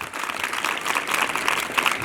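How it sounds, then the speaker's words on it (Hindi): An audience at a government girls' school event claps loudly and steadily throughout, a dense, continuous wash of applause with no break. "उससे जोरदार ताली बजाएंगे।"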